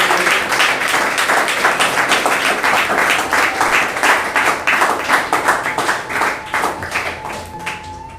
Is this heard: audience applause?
yes